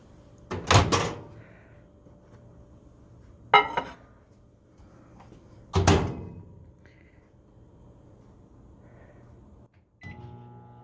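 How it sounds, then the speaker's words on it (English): A microwave oven on high cooks a chocolate mug cake: a few sharp clunks from the door, a faint steady hum underneath, and a short beep-like tone at the end. "we're going to bake it in a microwave. And you're just going to put it on high for 1 minute"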